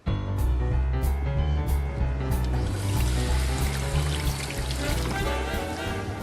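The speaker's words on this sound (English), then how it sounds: "Then I need to add water, hot water, to both of these pans." Hot water poured into two pans holding dried prawns for a prawn stock, a steady splashing pour with trickling and bubbling that carries on without a break and sounds close.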